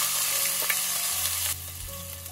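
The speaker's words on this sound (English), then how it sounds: "Next I'll add in the chopped onions." Chopped onions go into hot oil already holding dry red chilies, cumin seeds and carom seeds for a potato curry, giving a steady close sizzle and hiss with soft stirring sounds; the frying settles slightly quieter partway through.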